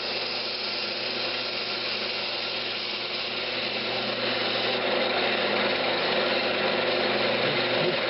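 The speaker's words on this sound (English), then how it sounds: "Just using my spindle gouge." A spindle gouge hollows the lid of a Brazilian cherry lidded box spinning on a wood lathe, giving a continuous loud, even whirring and scraping drone that grows slightly louder partway through, with no talking.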